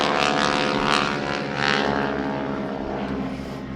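A Ford Tri-Motor propeller airplane's engines drone loudly and close, with a steady pulsing buzz from several propellers that swells and fades slightly as it passes.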